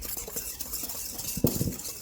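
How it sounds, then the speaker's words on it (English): Pancake batter for pumpkin pancakes is whisked in a bowl, a quick series of close, light scraping and tapping strokes with a sharper clink of the whisk against the bowl near the end. "Now we'll whisk those ingredients together"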